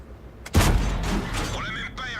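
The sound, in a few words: tank gun shots at a KV5 in World of Tanks video game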